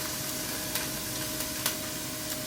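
Chopped yellow onion sizzles in hot olive oil, a steady close hiss of frying with a few faint pops scattered through it.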